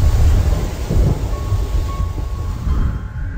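A thunderstorm with heavy rain, deep rumbling thunder rolling under a loud, steady wash of downpour that thins out toward the end.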